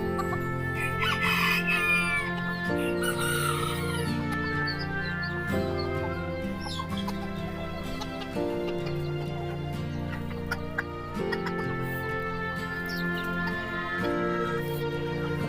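Roosters crow repeatedly, loud and near, while hens cluck in between, several birds calling over one another without pause.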